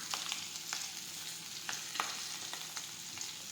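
Chopped chili sizzling in hot oil with mustard seeds, cumin and asafoetida, a soft continuous frying hiss broken by light stirring taps, close but fairly quiet, without speech.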